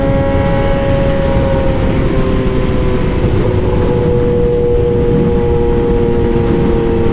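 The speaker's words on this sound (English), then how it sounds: "if you got a loud exhaust like me, it can get pretty annoying because you get a lot of drone." Loud, steady exhaust drone from a Yamaha R6 motorcycle with an aftermarket loud exhaust, a continuous engine hum with sustained tonal whine throughout, close and without speech.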